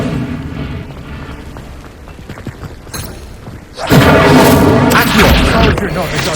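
A fire spell is cast in the video game Hogwarts Legacy with a heavy burst of flame. It is loud and broadband, surges near the midpoint and holds steady over the game's music and ambient sound.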